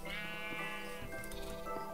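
Sheep bleating in the video game Minecraft, a single drawn-out wavering bleat followed by a shorter second call over soft game ambience.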